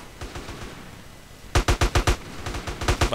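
Enemies firing at the player in GTA San Andreas DYOM: faint distant shots at first, then a close, loud rapid burst of evenly spaced gunshots that keeps going.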